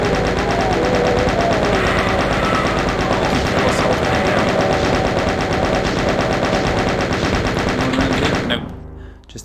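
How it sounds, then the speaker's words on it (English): Rapid, sustained chain gun fire from Doom (1993), a dense unbroken stream of loud automatic shots lasting several seconds before cutting off abruptly, followed by a brief quiet tail. "Switch to my chain gun here."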